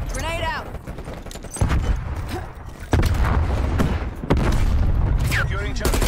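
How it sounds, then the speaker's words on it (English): Explosions and gunfire in the multiplayer game Call of Duty: Black Ops Cold War, with heavy booms and bursts of shots amid the din of battle and voices talking over the action. "Grenade out!"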